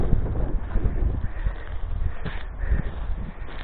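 Steady wind noise buffets the microphone on an exposed highland plateau near Domaniç, Turkey, during a bicycle ride: a broad rushing roar with low rumbling gusts throughout, no voices present.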